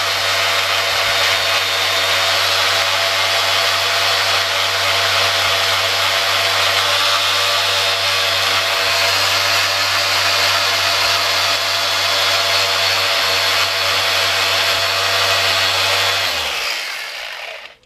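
Continuous power sanding on a motorcycle part during an FZR cafe racer restoration, using 600 grit wet and dry pads: a loud, steady high whirring hum that runs unbroken for a long stretch, then winds down abruptly near the end.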